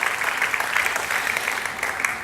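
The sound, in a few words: congregation applause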